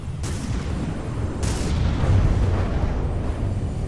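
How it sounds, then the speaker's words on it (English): Heavy naval main guns of a warship in From the Depths fire in booming salvos, two sharp blasts standing out over a continuous rumbling barrage of game combat noise. "Are you firing the main guns at jet planes?"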